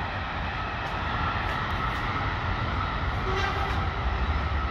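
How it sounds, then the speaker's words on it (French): A train rumbles past nearby, a dense continuous roar of wheels on rails with a faint horn note partway through and no speech. "Et il y a des trains qui passent en face."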